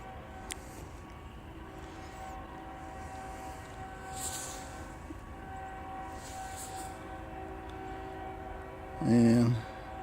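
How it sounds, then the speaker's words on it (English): A freight train with black tanker cars passes, its low steady rumble heard from trackside for a while, with a brief loud horn blast near the end. "Here comes the train right here."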